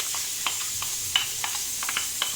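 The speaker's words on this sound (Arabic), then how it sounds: "غادي نبدا نشحر في هذا الدجاج مع البصله" Chicken and onion fry in oil with a soft, steady sizzle, broken by light scattered clicks and scrapes of stirring in the pan, close and fairly quiet.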